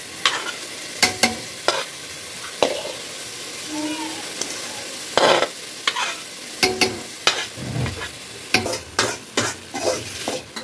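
Fried ingredients are stirred into sugar syrup for sheer khurma, a soft sizzling bed under a string of sharp spoon scrapes and clinks against the pan that grow more frequent in the second half.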